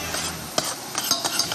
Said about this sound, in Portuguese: Então, depois de batido, acrescenta alho na panela.